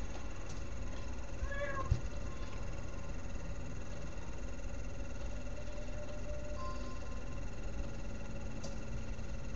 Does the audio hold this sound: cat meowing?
yes